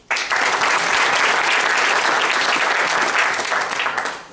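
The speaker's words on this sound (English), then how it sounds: "Go ahead and give her applause" Dense, steady audience applause at an auctioneers' convention as a presenter is introduced, rising sharply at the start and fading off in the last second.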